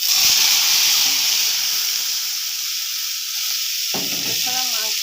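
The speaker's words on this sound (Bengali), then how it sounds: "আমি কিছুটা পেঁয়াজ আর কাঁচা ঝাল চিড়ে ভেজে নিচ্ছি।" Onion, green chili and boiled meat sizzling in a pan, a loud, bright, hissing fry that stays steady throughout, with faint scraping stirs and a short clatter near the end.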